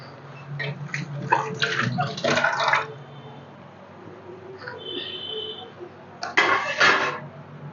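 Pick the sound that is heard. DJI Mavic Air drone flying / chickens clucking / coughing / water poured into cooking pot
water poured into cooking pot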